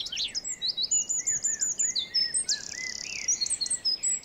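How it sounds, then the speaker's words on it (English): Songbirds sing during the breeding season, with rapid high chirps and trilling phrases overlapping continuously and close, bright and lively against a quiet natural background. "Birds sing to impress their potential partners."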